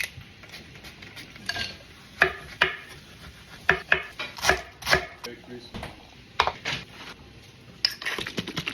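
Fennel being chopped on a board for a salad in a home Christmas kitchen, a run of sharp, close knife strikes in irregular bursts, with a few clinks of utensils between them.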